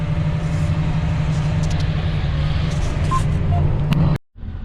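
Steady low rumble of a car engine heard from inside the moving car, continuous and fairly loud, cutting out abruptly near the end.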